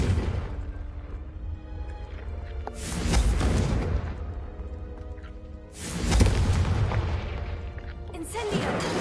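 Two heavy booming bursts from the Confringo fire spell in Hogwarts Legacy, each a broad rumbling blast that decays over a couple of seconds, set against continuous game background sound.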